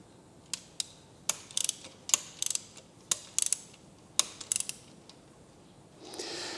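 A torque wrench clicks and ratchets while exhaust manifold bolts are tightened toward 24–25 foot-pounds on a GMC motorhome, a rapid series of sharp close ticks in short bursts, ending with a brief soft rush.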